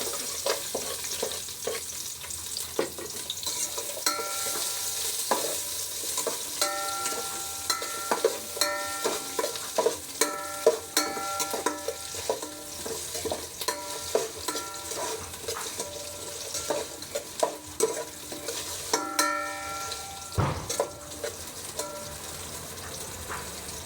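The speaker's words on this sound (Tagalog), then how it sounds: "At ito na yung pagigisa natin. Gigisa natin. Lalagyan na natin yung bawang" Garlic and ginger sauté in hot oil as the base for miso sinigang, giving a steady sizzle close by. Repeated spatula scrapes and clinks against the pan mark the stirring, and one louder knock comes near the end.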